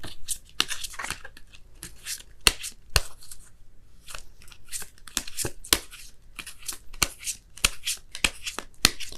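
Tarot cards shuffled by hand, a crisp flutter of rapid riffles and sharp slaps repeating irregularly over several seconds, close and fairly quiet, with no talking.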